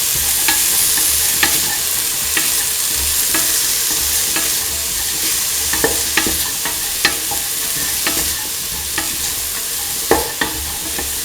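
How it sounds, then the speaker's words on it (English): Ivy gourd pieces being stirred into a mung bean mixture in a pan, a loud, continuous sizzle broken by repeated scraping strokes of a spoon at an uneven rhythm, close up and with no voices. "mix in the ivy gourd piece with the rest of the mixture"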